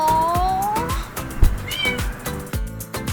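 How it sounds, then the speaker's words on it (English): A cat meows close by several times in a row, with drawn-out, wavering cries and shorter chirps in between. "Oh, a kitty."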